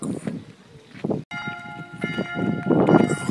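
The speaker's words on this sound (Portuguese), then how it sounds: "os sinos começaram a tocar" Church bells ring out with sustained, layered tones at Chambord, France, heard over a crowd murmuring and wind buffeting the microphone.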